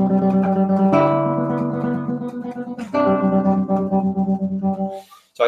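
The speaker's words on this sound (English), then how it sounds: "Appunti, study number 10, sounds like this." Guitar playing Tedesco's Appunti study number 10, with ringing sustained notes and shifting chords, then quicker plucked notes; close and clear with no talking.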